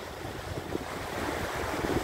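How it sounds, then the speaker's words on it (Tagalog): Rough, high-tide ocean surf along the seaside boulevard in Molo, Iloilo City, a steady broadband wash of waves mixed with gusty wind buffeting the microphone, continuous and fairly loud with no talk. "maalon ngayon ang karagatan"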